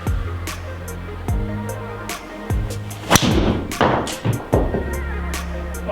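Golf drives struck with a TaylorMade M6 driver, a series of sharp close impacts spaced a second or more apart over a steady low hum, the later hits louder with some rustle between them.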